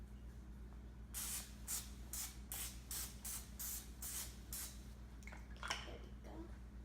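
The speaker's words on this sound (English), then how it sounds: "So now we're going to spray the cooking spray on here." Cooking spray hisses onto a toy baking pan in a series of about eight short bursts, close and fairly loud, over a steady low hum, followed by a few fainter sprays and clicks.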